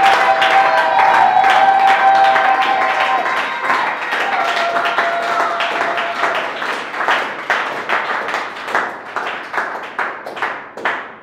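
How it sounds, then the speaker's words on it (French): A church congregation claps and applauds loudly in praise, starting as dense, overlapping applause and settling into quicker, rhythmic hand-clapping that gradually thins toward the end. "Alors acclame encore pour le Seigneur là où tu es."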